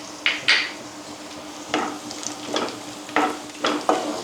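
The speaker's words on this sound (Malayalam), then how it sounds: "ഇതിലേക്ക് നമുക്ക് കുറച്ച് മുന്തിരിയും കൂടി ഇട്ട് കൊടുക്കുന്നുണ്ട് കേട്ടോ" Raisins fry in ghee in a pan for a semolina laddu, with short stirring scrapes and clinks of a spoon against the pan recurring every half second or so over a quiet sizzle.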